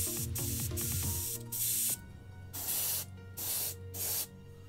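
Aerosol spray paint hisses from a spray can in four short, close bursts, each about half a second, while a painter works a black coat; faint tonal background sound precedes the first spray.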